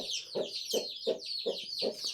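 A hen that has left her nest of hatching eggs clucks near her chicks, giving a steady series of about five or six close, rhythmic clucks over faint high peeping.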